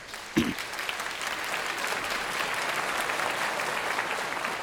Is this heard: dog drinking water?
no